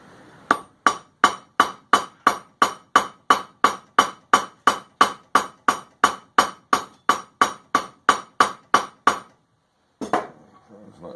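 A hammer cold-rivets a rivet on a pair of forged tongs with about two dozen sharp, evenly spaced metallic blows. After a brief pause, a few weaker knocks follow.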